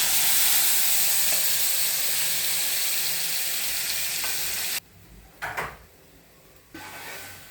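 Stuffed green chillies dropped one by one into hot tempering oil over low gas, with a loud, steady sizzle and hiss that cuts off sharply partway through, leaving quieter stirring and bursts of frying.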